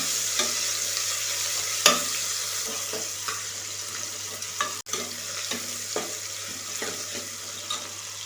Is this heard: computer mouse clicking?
no